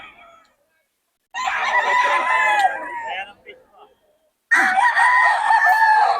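Two loud rooster crows from a stag gamecock, each a long harmonic call lasting about a second or more, separated by a short quiet gap. No one speaks over them.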